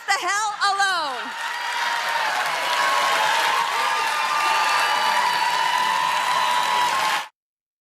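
A crowd at a politician's speech breaks into sustained applause with cheering and whoops, loud and steady until it cuts off abruptly; a voice speaks briefly at the start.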